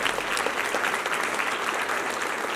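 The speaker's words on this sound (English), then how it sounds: "Can we give them a round of applause?" A conference crowd applauding steadily, dense clapping throughout with no pauses, fairly loud and close.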